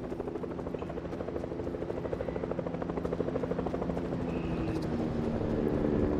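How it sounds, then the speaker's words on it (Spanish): A Fortnite helicopter passes overhead, its rotor chopping in a fast, steady rhythm that stays loud and close and builds slightly toward the end, with no talk. "Upa, helicóptero."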